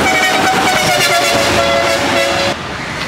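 A vehicle speeding at about 100 km/h through a Sri Lankan village, its horn blaring loudly and continuously over a roaring engine as it passes close by, the horn cutting off abruptly near the end.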